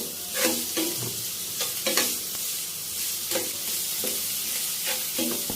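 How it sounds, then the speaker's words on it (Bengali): Onions fry in a pan over low heat for a shrimp chili dish, a steady close sizzle broken by repeated scraping stirs of a spatula. "পেঁয়াজটাও আমি 1 মিনিট ভেজে নেব মৃদু আঁচে"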